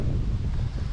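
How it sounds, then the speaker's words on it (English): Steady wind gusting across the microphone on an evening walk in rural Jamaica, a low continuous rumble and roar with no talking. "Oh, it's getting windy now."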